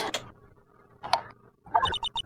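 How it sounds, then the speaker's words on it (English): A small metallic click of a door lock opening sounds in the Phoenix Wright video game, heard briefly among soft game effects and then a run of quick text blips. "Click. Sounds like I got the door open."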